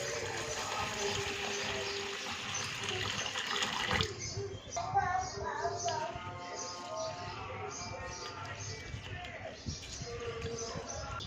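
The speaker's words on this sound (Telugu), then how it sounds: "ముందుగా బాస్మతి రైస్ 2 cups తీసుకొని దాన్ని మంచిగా వాష్ చేసుకుందాం." Basmati rice being washed in water, with sloshing, swirling and splashing of grains in a vessel and a brief pouring sound, close and steady.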